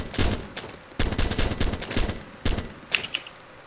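Automatic gunfire in the Arma 2 video game aimed at an enemy gunner, loud close bursts of rapid shots broken by short pauses, with a lighter single crack near the end.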